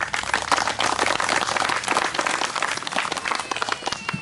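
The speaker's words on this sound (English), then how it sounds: "Please give him a round of applause." An audience at a political campaign event for a Campbelltown candidate bursts into lively applause, a loud, uneven patter of many hands with a few sharper claps, continuing throughout without speech.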